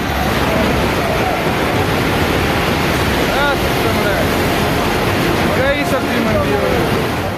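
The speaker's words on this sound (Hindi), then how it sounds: "लहरों ने ऐसा कहर बरपाया कि देखते ही देखते एक विशालकाय इमारत इन लहरों में समा गई।" Violent floodwater waves crash in a steady, loud roar during a cloudburst at Manikaran in Himachal Pradesh, with a voice faintly audible beneath the rushing water.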